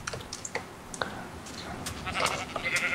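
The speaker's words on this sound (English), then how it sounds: "we still have 2 pink sheep" Sheep bleats from the Minecraft video game, several short cries at moderate level scattered over a backdrop of game sounds and footsteps, with no talking.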